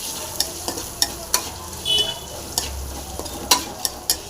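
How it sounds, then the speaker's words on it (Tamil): Drumstick leaves stir-fried in a pan with salt, a steady low sizzle broken by sharp, regular spatula scrapes and clinks, close and alone with no talk. "நல்லா ஃப்ரை ஆகட்டும்."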